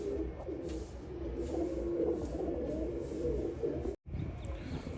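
Soft, low coos of Rajan-breed pigeons repeat in a murmuring flock, close and continuous, with a brief cutout near the end.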